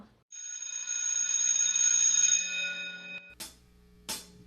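A school bell rings at the end of class with a sustained bright tone for about three seconds, then two short sharp clanks follow, fairly quiet, with no talking.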